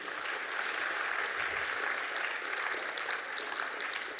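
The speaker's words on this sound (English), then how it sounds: "welcome him once again with a clap of your hands, please" A workshop audience claps to welcome a scientist to the stage, a dense, even wash of many hands sustained for several seconds, fairly distant and without speech.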